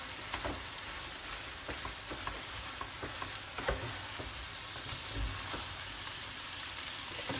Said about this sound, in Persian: کاملا اینا رو مخلوط میکنم تا اون ادویه که بهش زدم به همه قسمتاش